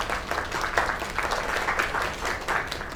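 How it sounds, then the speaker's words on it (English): Audience applause rolling on continuously, a dense wash of many hands clapping at moderate level with no one speaking over it. "Another round of applause."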